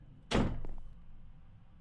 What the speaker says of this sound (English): My door just slammed shut